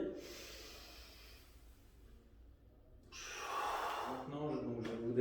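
A single deep inhale during a floor exercise, drawn in as the glutes and quadriceps engage, fairly soft and close, with a brief breathy rush after a quiet pause.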